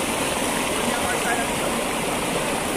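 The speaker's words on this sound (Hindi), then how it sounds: "ये है जी वो नाला जहाँ से पानी आता जाता है" A mountain stream in Kashmir rushes steadily, a loud, continuous broadband wash of flowing water close by, with no breaks throughout.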